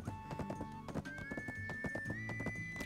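A horse in the video game Black Desert gallops with rapid, rhythmic hoofbeats, and a long neigh rises partway through, close and prominent over a faint game soundtrack.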